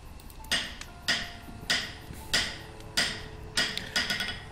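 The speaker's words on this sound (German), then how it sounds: "I'm sure Thor's big hammer here could straighten a few things out" Rhythmic metallic hammer strikes in the video game Tesla Effect, about seven evenly spaced clanks each with a short ringing tail, loud and close with no talking.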